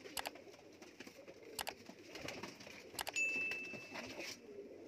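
Kamagar pigeons at a pigeon sale in Amritsar coo softly in short repeated bursts, with light patter and a brief high whistle-like tone in the background; no voices.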